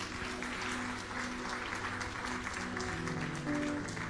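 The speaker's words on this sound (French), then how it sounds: "On acclame très fort." A live audience applauds loudly and steadily throughout, a dense wash of clapping with music or voices faintly underneath and a brief swell near the end.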